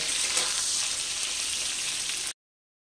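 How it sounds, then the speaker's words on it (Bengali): Eggplant pieces fry in hot oil with green chillies, giving a bright, steady sizzle for about two seconds before it cuts off abruptly. "বেগুনটাকে একটু ভেজে নেব।"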